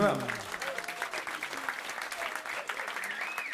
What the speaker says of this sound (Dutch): Applaus voor Timo de Jong.